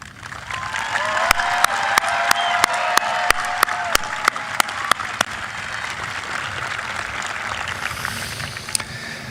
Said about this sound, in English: Please rise so we may give you a resounding round of applause.